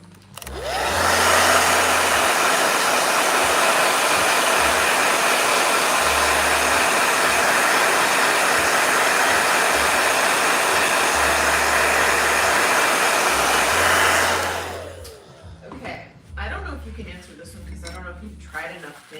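A blow dryer runs loud and steady for about fourteen seconds, a dense even whoosh with a whining motor tone, then cuts off; a voice talks briefly before and after.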